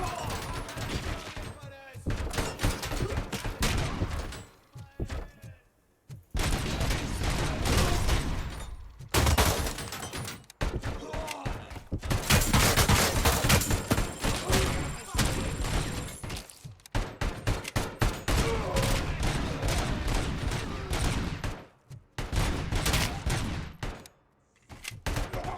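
Video game gunfire crackles in dense, sustained volleys of loud shots and automatic bursts, with a few brief pauses, while someone talks over the noise.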